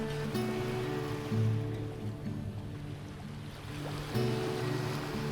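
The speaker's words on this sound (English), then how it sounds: "Listen to the waves." Ocean waves on the beach at Amanohashidate, north of Kyoto, wash in with a soft rushing surge twice, alongside a steady low mechanical hum.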